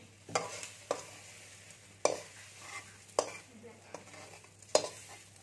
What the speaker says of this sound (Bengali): আমি পেঁয়াজটাকে একটু ভেজে নিচ্ছি